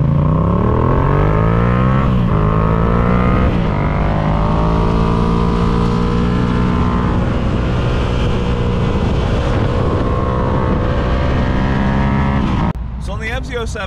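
A Yamaha FZ07 parallel-twin motorcycle with a 270-degree crank revs loud and close, its deep, throaty harmonic drone rising and holding for about twelve seconds before cutting to a brief pause and a rougher burst at the end.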